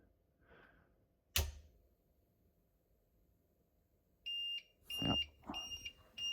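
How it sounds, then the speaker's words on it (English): A UPS battery backup unit sounds its audible alarm after the power to a NAS is switched off: a sharp click, then repeated loud electronic beeps in short bursts, with a brief spoken word nearby. "So you get the audible alarm"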